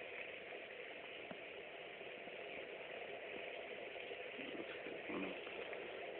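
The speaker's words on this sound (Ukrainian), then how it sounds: "Кипить навіть потужно кипить." Water boils vigorously in a 200 ml pot over a homemade alcohol burner, a dense steady bubbling rush with no talk over it.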